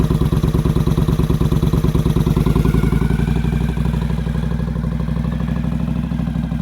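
A Honda CX500 cafe racer fitted with Mikuni carburetors idles close and loud, with a steady, even low-pitched chug and a mechanical clatter throughout.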